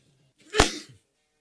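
A single sharp human sneeze, close and loud, a short explosive burst with a brief trailing breath, alone in an otherwise quiet room.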